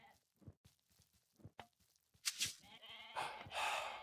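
Goat bleating in Age of Mythology Retold, a few short bleats rising near the end amid soft footsteps and game sounds, with a player talking quietly before it.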